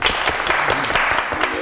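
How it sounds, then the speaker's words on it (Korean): Students applauding at a university lecture event, a loud, dense wash of clapping from many hands, close and continuous for the whole short stretch. "학생 여러분 박수 부탁드릴게요"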